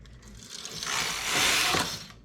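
Knitting machine carriage sliding across the needle bed while knitting a cuff, one smooth ratcheting mechanical rasp that builds, holds and fades over about two seconds, close and fairly quiet, no talk.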